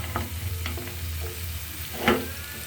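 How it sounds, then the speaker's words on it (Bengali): A vegetable fries in a pan with onion and garlic, giving a steady sizzle under a low hum, with a few light stirring scrapes and a firmer spatula clink past the two-second mark. "এখন আমি সুন্দর করে এটা রান্না করব আগে একটু ভেজে নিব সুন্দর করে"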